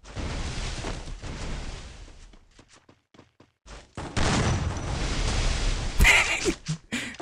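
Gunfire in the battle game Garena Free Fire: dense bursts of shots and blasts, a quieter gap with scattered single shots, then heavy firing resumes with sharp cracks near the end.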